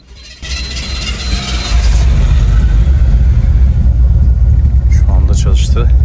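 A 1973 Chevelle SS V8 cranks and catches, then settles into a loud, deep, lumpy idle close by, with a person speaking over the running engine.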